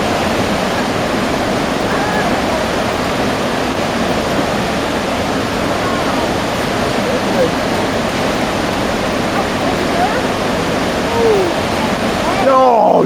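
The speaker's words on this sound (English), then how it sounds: "Working the rapids." River rapids in upstate Georgia roar in a steady, loud, dense rush of whitewater that lasts throughout, with faint voices and brief splashes near the end.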